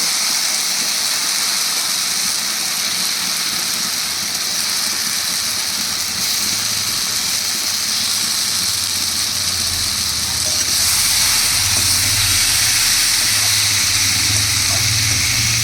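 Pieces of katla fish go into hot spiced oil for a kalia curry, giving a continuous broad frying hiss and sizzle that grows somewhat louder and rougher toward the end.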